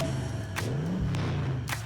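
Car engines rev in a Twisted Metal video game trailer, a steady loud motor drone with pitch rising and falling, plus a couple of brief sharp bursts over the constant engine noise.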